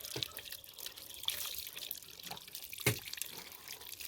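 Duck eggs are rubbed and washed under running water, with faint drips and trickling mixed with soft handling clatter close by.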